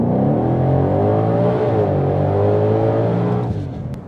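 A 2021 Ford Mustang Shelby GT500 engine revs hard and steady from a standstill with the brake held, a loud, deep, sustained roar that holds its pitch before easing off near the end.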